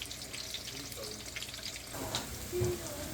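Stuffed bitter gourds frying in a pan: a faint, steady sizzle with low crackling and a soft hiss, fairly quiet and without a break.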